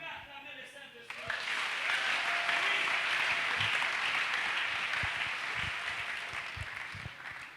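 A church congregation breaks into loud, sustained applause for the Holy Spirit, a dense wash of clapping that swells after a brief spoken lead-in and carries steadily to the end with voices mixed in.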